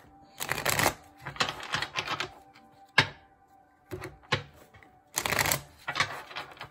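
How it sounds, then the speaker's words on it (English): Tarot cards shuffled by hand in several bursts, crisp riffling rustles separated by short pauses and a single sharp tap, close and fairly quiet with no talking. "One more shuffle."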